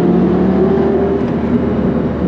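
A Lamborghini Gallardo's exhaust holds a loud, steady, rumbling rev close by, droning without a break for the whole stretch and with no voices over it.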